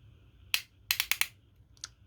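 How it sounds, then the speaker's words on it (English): A few sharp, crisp mechanical clicks from a bicycle shifter upshifting, one single, then a quick cluster of four, then one more, close and quiet. "That's the sound of upshifting"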